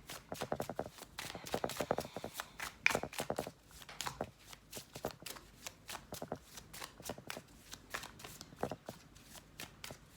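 A deck of cards being shuffled close by, producing quick papery riffles and flutters in repeated bursts with brief pauses between them, heard on their own without talk.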